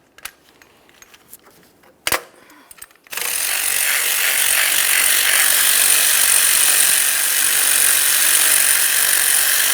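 A ratchet works on the upper alternator mounting bolts of a 2012-2015 Honda Civic 1.8L I4: a few scattered clicks and a sharp snap, then a loud, continuous whirring rasp that runs without pause.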